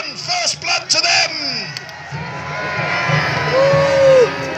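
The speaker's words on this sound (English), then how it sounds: "If you agree, then give a cheer for the men of Saxon England." A crowd of spectators at a Battle of Hastings reenactment cheers for the Saxon line, loud overlapping shouts, whoops and a rising roar lasting several seconds, with individual voices calling out.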